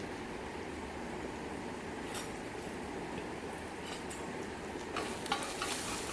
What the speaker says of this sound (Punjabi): ਇਸ ਨੂੰ ਚੰਗੀ ਤਰ੍ਹਾਂ ਹਿਲਾ ਕੇ ਮਿਕਸ ਕਰ ਲੈਣਾ